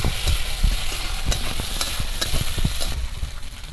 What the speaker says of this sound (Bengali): কাঁচা লঙ্কাটা একটু ভাজা ভাজা করে নিচ্ছি